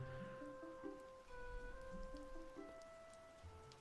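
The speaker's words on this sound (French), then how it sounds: "Ah, il pleut à Mönchengladbach." Steady rain at a Mönchengladbach football stadium during a Bundesliga match against Freiburg, an even hiss of drops on surfaces with faint tonal hums and distant stadium ambience beneath, no talk.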